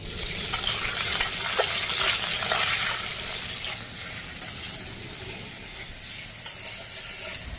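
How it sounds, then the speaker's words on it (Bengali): Bitter gourd with salt fries in an oily pan, a continuous close sizzle with occasional stirring scrapes and small clicks, steady throughout with no voices. "উচ্ছেটা একটু ভালো করে ভাজতে হবে, তাহলে শুক্তোটা অতটা তেতো হয় না।"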